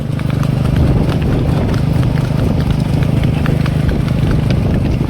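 Mares' hooves clip-clop steadily over a constant engine-like rumble during a ride, a busy, loud mix with the trotting rhythm repeating throughout.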